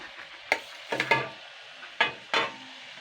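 Taro leaves are stirred into a pan for a vegetarian kochu shak dish, a low sizzle with a few sharp, separate spatula scrapes and clatters.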